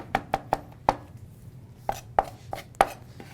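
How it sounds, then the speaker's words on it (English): A knife chops through tightly rolled, cross-cut sage leaves on a cutting board, giving about ten sharp, close knocks in an irregular rhythm with short pauses, and no voices. "And then just go back through and chop it as fine as you can."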